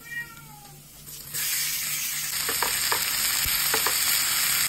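Ground beef, over 500 grams, drops into a hot pan with garlic and bursts into a loud, steady sizzle that continues to the end, with occasional scraping stirs over it.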